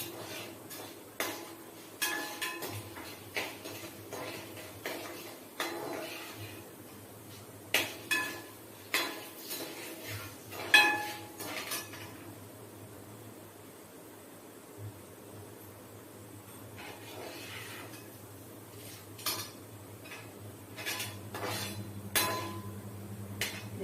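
Metal utensil clinking and tapping against a pan while sautéing ginger, green chilies and onions, in irregular bursts, close by, with a low steady hum underneath and no voices.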